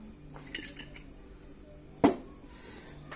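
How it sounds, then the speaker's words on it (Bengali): A metal wok set down on a kitchen stove gives a single sharp, close clank, preceded by a faint earlier clink in an otherwise quiet room. "এখন আমি চুলোর কাছে চলে আসলাম, একটা কড়াই দিয়ে দিলাম।"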